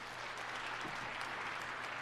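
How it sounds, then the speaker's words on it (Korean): Church congregation applauding during a 2018 Christmas service, a dense steady patter of clapping filling the room, faint and uniform throughout. "우리 박수로 한번 환영하시겠습니다"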